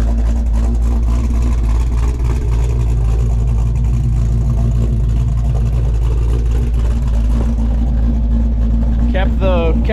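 Firebird V8 fitted with a Holley Sniper and HyperSpark, breathing through a full 3-inch X-pipe exhaust, idling with a deep, steady rumble throughout, loud and close, with a brief voice near the end.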